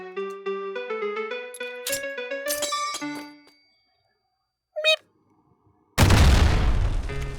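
Grenade blasts in the VR shooter H3VR: metallic clinks and ringing tones with sharp knocks, a short pop after a pause, then a loud booming explosion with a long rumbling tail near the end.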